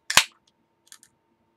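A can of Mountain Dew Black Label cracks open with one sharp, close pop and brief fizz, followed by a few faint clicks.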